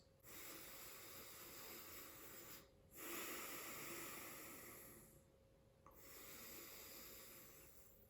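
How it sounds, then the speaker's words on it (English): Slow, deep breaths taken one after another, long airy inhales and exhales with short pauses between them, soft and close. "close your eyes and take a few deep breaths"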